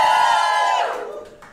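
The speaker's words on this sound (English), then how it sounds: "So if you agree with Helen, give us a cheer." A comedy show audience in Edinburgh cheers and shouts loudly together, a brief burst of crowd noise that fades away.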